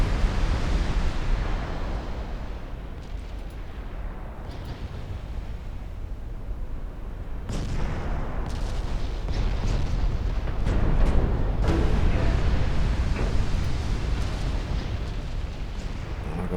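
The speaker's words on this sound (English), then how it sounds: "I think we're gonna get a couple more torpedo hits here." Torpedo hits exploding against warships in the naval strategy game Ultimate Admiral Dreadnoughts, heard as a continuous heavy rumble of blasts with a sharp new impact midway, with no speech.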